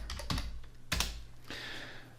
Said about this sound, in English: So now you can see what I am clicking and what I am pressing on my keyboard.